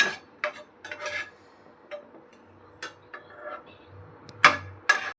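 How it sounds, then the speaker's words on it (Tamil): Ginger garlic paste sautéing in a pan, with scattered metal spatula scrapes and clinks against the pan over a faint sizzle, in short irregular bursts without talk. "இஞ்சி பூண்டு பேஸ்ட் போட்டுட்டு பச்சை வாசனை போகிற வரைக்கும் வதக்கணும்"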